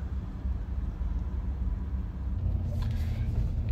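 A work truck engine tuned with an SCT X4 tuner idles after starting, giving a steady low rumble close by, with a slight rise in activity near the end and no talking.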